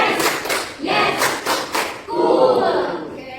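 Children in a classroom clapping together in a counted clap game: rhythmic groups of sharp claps in quick bursts, with voices chanting along in the room.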